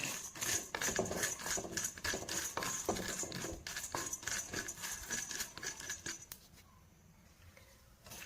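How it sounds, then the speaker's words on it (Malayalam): Dried amla pieces roasting in a small iron pan make dry, irregular clicks and rattles as they are stirred, fairly faint and close, then thinning out near the end. "ഇനി നല്ലപോലെ ഒന്ന് വറുത്തെടുക്കണം കേട്ടോ"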